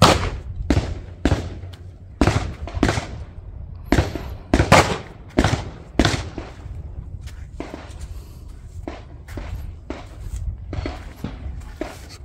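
Shots at an outdoor 50-yard range where an FX Impact M3 air rifle is fired: a dozen or more sharp cracks and pops, dense and irregular at first, then sparser and fainter, with faint background rumble and no talking.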